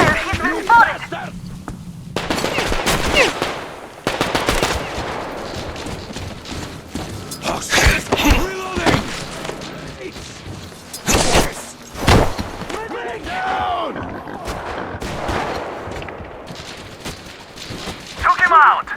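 Video game gunfire from Metro Exodus: repeated sharp bursts and single cracks of shooting, with thuds and clattering impacts spread across the scene. Shouting voices break through between the shots.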